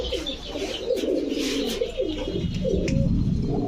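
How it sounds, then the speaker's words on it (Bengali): Pakistani and Rampuri pigeons cooing in a loft, steady overlapping low throaty coos with a few faint higher chirps behind, close and fairly loud throughout with no talking. "আসেন এখন পাকিস্তানি কবুতর একটা ঝলক দেখাই"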